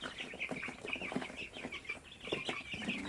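Native Visayan chickens clucking repeatedly in short bursts, fairly close, with several birds overlapping in a busy farmyard chorus.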